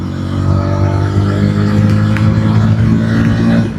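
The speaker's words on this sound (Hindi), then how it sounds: "अब एक बार फिर आपको मैं पुल दिखाता हूँ। Second gear, third gear," A Bajaj Pulsar N160 motorcycle accelerates hard through the gears, its engine note droning loud and steady with rising revs close by and no pause between shifts.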